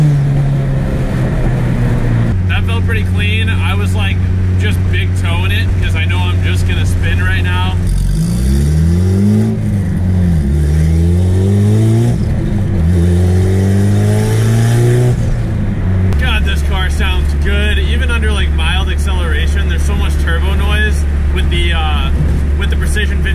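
A Honda B-series engine fitted with a Precision 5858 turbo revs hard, its loud droning tone climbing and falling through several sweeping pulls before settling back to a steady idle-like hum, with no voices.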